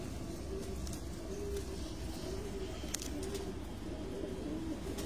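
Pigeons coo continuously on a rooftop in Sukkur, a layered low burbling of several birds at moderate distance, with faint chirps and a single sharp tick over a steady outdoor hum.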